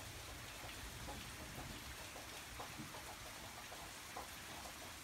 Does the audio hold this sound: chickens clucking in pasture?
no